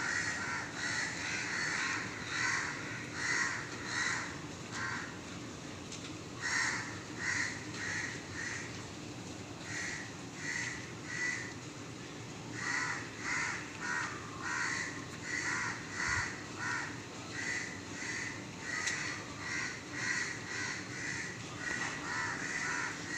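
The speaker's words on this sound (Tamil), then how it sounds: "எல்லா காக்காயும் இந்த மரத்துக்கு ஓடி வருது" Many crows caw continuously in overlapping, repeated calls, a noisy flock calling from nearby trees with steady background hiss.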